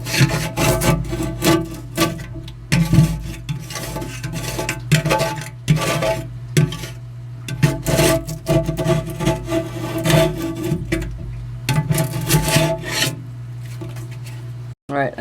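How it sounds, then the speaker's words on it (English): Leftover silicone and background material are scraped out of a 20-gallon glass terrarium, with repeated close, loud rasping strokes in an uneven rhythm over a low steady hum. "I've scraped all the excess stuff off. There was also some silicone that I had to scrape off too."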